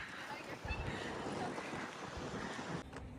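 Strong wind by the sea in Alicante on a stormy January day, buffeting the microphone in a steady roar with gusty swells, waves and surf blending underneath, and a voice talking faintly at times.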